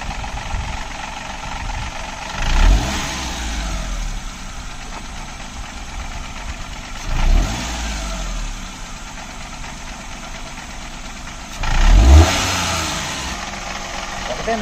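Engine of a 2008 model car idling with three separate revs spaced a few seconds apart, each a short rising surge over a steady low rumble, with people talking throughout.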